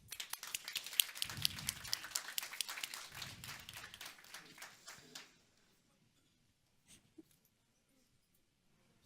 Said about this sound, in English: Bigger round of applause, everyone.